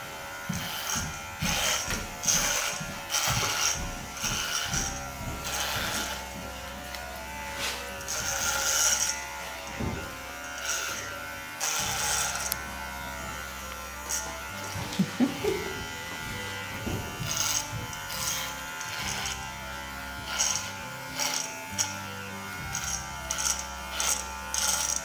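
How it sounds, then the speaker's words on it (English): Electric dog clippers hum steadily while grooming a Westie-like dog's coat, a close buzzing drone with pitch wavering as the blades pass over the fur, continuing throughout with brief pauses. "I'm using now the clipper to style, but later I can just do the rest with the scissor"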